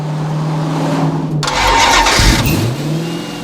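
A 2006 Dodge Challenger SRT's 6.1-litre Hemi V8 fires up with an abrupt crank and catch, then rises into a deep, loud rev before settling back toward idle, alone and close.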